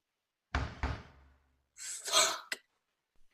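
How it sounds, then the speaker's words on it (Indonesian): A courier raps on a door: two firm, close knocks, then a sudden burst of startled sounds and a brief faint tap at the end, in an otherwise quiet room. "Rupanya suara ketukan pintu dari kurir yang mengantar pesanan Silent"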